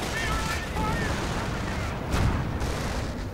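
Gunfire and artillery in a WWII real-time strategy battle, where Hummel self-propelled guns lay blocking fire against an American advance. The result is a dense, continuous wash of distant shooting and booms, with faint high tones above and no clear single shot.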